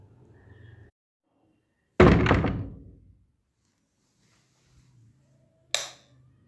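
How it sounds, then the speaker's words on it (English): Doors bang shut in a narrated story: one loud heavy thud that rings out for about a second, then a sharper, shorter knock a few seconds later, with quiet between them. "The doors banged shut"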